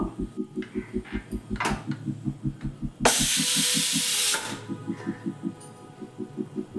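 Pressure cooker of sprouted legumes hissing out steam on a switched-off stove after two whistles. A loud broadband rush lasts just over a second between softer rhythmic low pulses.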